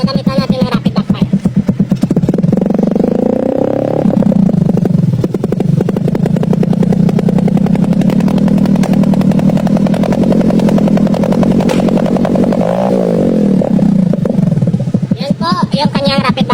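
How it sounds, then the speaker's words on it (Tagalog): Skygo Prince 125 motorcycle fitted with a kalkal exhaust pipe and rapid-backfire setting, sounding a loud, sustained close-up engine drone with revving swells and a crackling, sputtering exhaust stretch toward the end. "Tapos gagamitan natin ng rapid backfire."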